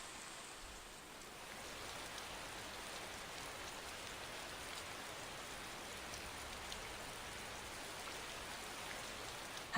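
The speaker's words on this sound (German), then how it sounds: "It's about to pour down on us." Steady rain in the Tales of Xillia video game, an even, unbroken hiss of downpour at a quiet level, with no voices and no other sounds.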